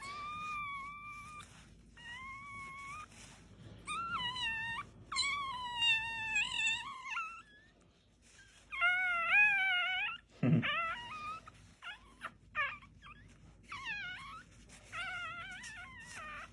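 Repeated high, wavering whimpers and squeals from a newborn puppy, coming in short bursts with brief pauses, close by and fairly faint.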